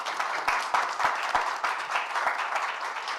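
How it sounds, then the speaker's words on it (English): Audience applause at the close of a coffee industry diversity panel at a conference, steady dense clapping with a few sharper individual claps standing out, moderately loud and without speech. "Big round of applause one more time for everyone."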